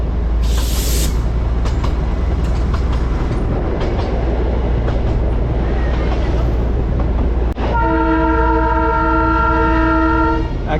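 Darjeeling toy train on the Gayabari jungle ride rumbles loudly and steadily past tea gardens, its wheels clattering under heavy engine noise, with an early hiss, then a long sustained horn blast.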